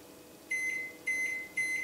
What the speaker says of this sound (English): We're going to pop this in the microwave.